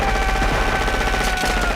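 Dense machine-gun fire from a Die Hard film scene, a loud continuous rattle of rapid shots with no pause.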